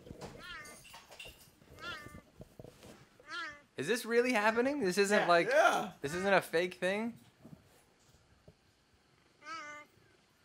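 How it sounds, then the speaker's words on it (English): Cheetahs meowing in short, high, repeated chirps, played back from a clip and heard alongside loud overlapping human voices and excited talk, with a few isolated meow-like calls at the start and end. "We're gonna cut straight to the cheetah meows, right?"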